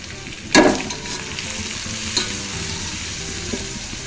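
Chopped garlic and onion hit hot oil in a pan with a sharp burst of sizzling, then settle into a steady crackle and hiss, with a couple of smaller spikes as the pieces are stirred.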